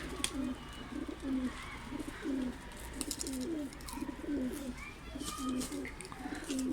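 Pigeons on a rooftop terrace coo repeatedly in a rhythmic, throaty pattern, fairly close, with faint chirps and background rustling.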